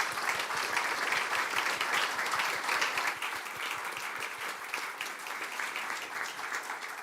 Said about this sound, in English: Let's give one more big round of applause to our panelists